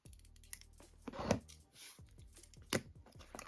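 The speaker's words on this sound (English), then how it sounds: "Trim off any excess ribbon and heat seal the raw edge." Scissors snip off excess ribbon in a quiet room while a handmade ribbon hair bow is finished, giving a few soft, close cuts and clicks spaced out over a few seconds.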